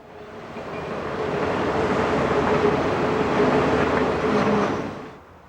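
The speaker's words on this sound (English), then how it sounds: "As the train rolls by on the main, the crew inspects the train for defects" Union Pacific freight train UP 9717 rolling past on the main line in the Feather River Canyon, a steady, loud wash of wheel and car rumble that swells in, holds evenly, then fades near the end.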